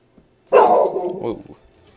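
A dog lets out one loud, close bark that is drawn out into a short, rough yelp lasting about a second, then the room goes quiet.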